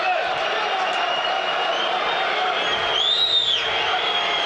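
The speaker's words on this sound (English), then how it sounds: "The crowd not happy because the keeper's taken his time with it" Murmuring, restless crowd noise fills a Premier League football stadium during Burnley v Aston Villa, a continuous broad roar with a brief rising whistle-like swell near the end, with talk on top.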